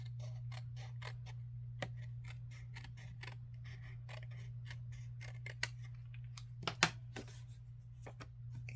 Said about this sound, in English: And for the crumb cake, I'm going to try and cut this super, super thin.